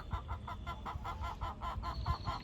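Chickens in a netted chicken run cluck and call in a steady rhythmic series, fairly faint against a constant background hum.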